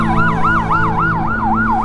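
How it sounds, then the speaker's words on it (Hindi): An ambulance siren wails loud and near, its rising and falling tone repeating in a fast regular cycle over a low vehicle rumble, with no voices. "एम्बुलेंस की आवाज आने लग जाती है"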